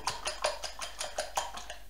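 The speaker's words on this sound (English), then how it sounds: "At this stage all we're doing is getting the sugar mixed into the egg." A whisk or spoon beating sugar into eggs in a bowl for custard tarts, giving a quick regular clinking rhythm of about eight strokes, close and clear.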